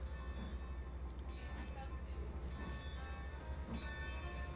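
A train runs in the Trainz railroad simulator game, a steady low rumble and rolling drone with faint clanks and brief higher tones, quiet and continuous throughout.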